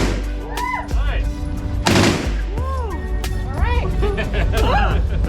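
Gunfire at an outdoor shooting range during a Texas trip: several sharp individual shots spaced a second or so apart, loud and close, with people talking and voices in between.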